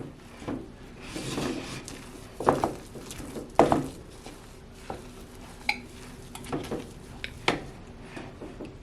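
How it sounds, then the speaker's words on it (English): Stove Top stuffing being mixed, irregular scraping and knocking of a utensil against a dish in separate strokes, close and moderately loud, with no talk. "Let's mix up the stuffing a little bit."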